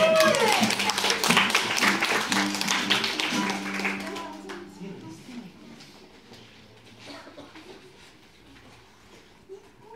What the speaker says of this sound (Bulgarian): Аплодисменти за Уили Модер!